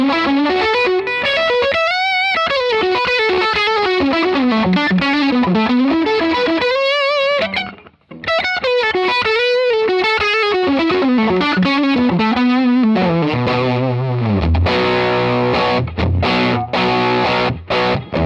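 Electric guitar played through a hard fuzz amp model from Fractal, a custom model with 1960s-style clipping, giving loud, saturated melodic lines with thick distortion, a brief pause near the middle, then sustained chords and choppy notes toward the end.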